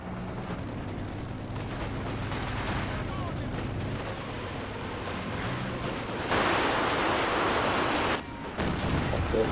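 Unit gunfire in a strategy war game with Panthers and IS-2 tanks, steady rattling shots and distant booms under a constant noisy battle bed, louder toward the end.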